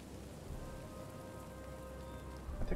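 Continuous, even rainfall washes over a Napoleonic-era battlefield in the strategy game Total War: Napoleon, a dense steady hiss with no voices.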